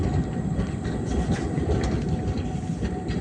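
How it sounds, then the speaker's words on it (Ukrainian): A train rolls along a railway line in Prague, a steady, fairly loud rumble of wheels on track with faint rhythmic clatter throughout, no voices. "От залізницю."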